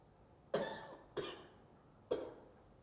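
Three separate coughs from one person, spaced about a second apart, moderately close in an otherwise quiet room.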